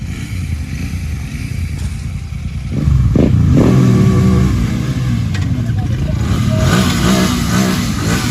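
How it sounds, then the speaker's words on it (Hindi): A Royal Enfield Continental GT 650 motorcycle revs loudly and close by. Its exhaust note swells sharply into a sustained, throbbing roar with rising and falling revs, and voices talk over the engine. "ये भाई एग्जॉस्ट जो है ना बहुत तगड़ा एग्जॉस्ट है गाइस"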